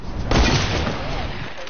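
A loud, close shotgun blast in the game Raze booms once and rolls off into a rough decay, with a voice talking over it.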